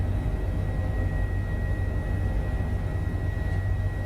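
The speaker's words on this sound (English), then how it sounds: "I do love this helicopter." An H145 helicopter in Microsoft Flight Simulator drones steadily with a constant rotor and turbine hum and a faint high whine, unbroken throughout with no talk.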